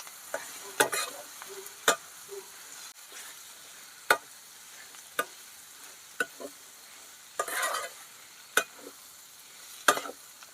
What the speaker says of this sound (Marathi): व्यवस्थित याला परतून घ्यायचं